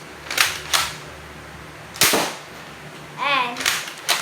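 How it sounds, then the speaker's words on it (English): A Nerf revolver toy gun fires, giving a few sharp, close snaps spread across several seconds, with a brief squeaky, rattling sound near the end. "This is the single shot."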